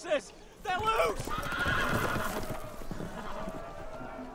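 Horses whinny sharply at the start, followed by galloping hooves, commotion and voices shouting over the scene in the Game of Thrones Telltale video game.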